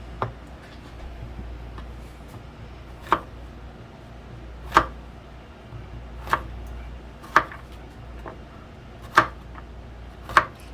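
A knife chops through freshly harvested garden squash on a board: about eight crisp, close cuts at uneven intervals, each a sharp isolated knock, with no voices.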